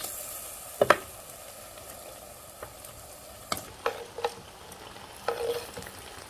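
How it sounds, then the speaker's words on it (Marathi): Mutton is stirred into oily masala in a pan for a spicy black mutton curry, giving scattered scraping and clacking strokes of a spoon over a faint low sizzle. "आता एक सारखं सगळं हे एक जीव होईपर्यंत हलवून घ्यायचं।"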